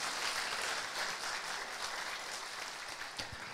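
A church congregation claps steadily throughout, a dense, even wash of applause that stays at the same level without pausing.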